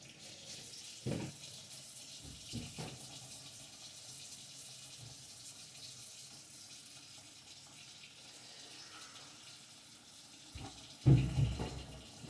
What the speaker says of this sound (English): I'm gonna go wash my bowl and stuff with soap and water